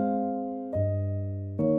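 A soft Noir Felt sampled piano from Kontakt plays three muted, warm chords in slow succession, each a gentle attack with a sustained felt-dampened tone, close and alone.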